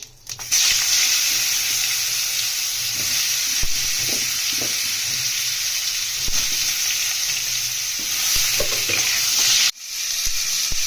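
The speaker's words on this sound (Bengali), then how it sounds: "আমরা এই কড়াইটাতেই তেল দিয়ে দিয়েছি গোটা জিরে ফোড়ঙে দিয়ে দিলাম ওলকপিগুলোও দিয়ে দেবো" Whole cumin seeds and kohlrabi fry in oil in a wok, giving a loud, steady, close sizzle with occasional stirring clatter; the sound cuts off abruptly near the end.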